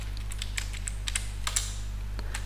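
Keys tapped on a computer keyboard while entering a database query, a quick irregular run of light clicks close up over a steady low electrical hum, with no talking.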